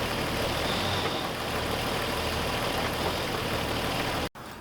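A Jeep engine hums and rumbles steadily at idle nearby while the transmission is shifted between forward and reverse, ending in a brief dropout and a quieter continuation.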